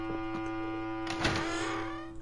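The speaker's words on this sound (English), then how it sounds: "I guess I do have a blow function on my vacuum cleaner" Luigi's vacuum cleaner blows air in Luigi's Mansion 2, a steady droning hum with a whooshing surge partway through, moderately loud and without talk.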